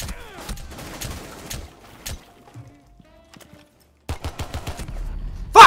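Gunfire in Rainbow Six Siege, heard as several sharp bursts of shots with a quiet gap in the middle and a denser run of rapid shots near the end, with a voice at the start.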